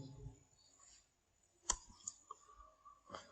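A few sharp mouse clicks on a computer in a quiet room while working in Microsoft Excel, spaced irregularly: one loud click, then softer ones after it, with faint clicking at the end.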